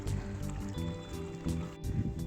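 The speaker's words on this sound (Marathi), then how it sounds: "तर मोटर चालू आहे, शेतामध्ये पाणी देत आहेत." An electric water pump motor runs beside a farm field near Junnar, Pune, pumping irrigation water: a steady close hum with a pulsing, sloshing rhythm of flowing water.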